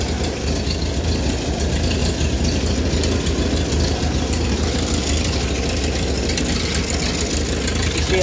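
A 1940s Ford 2N tractor engine idles nearby, a loud, steady low rumble with a rhythmic knocking chug that holds even throughout, with no talking over it.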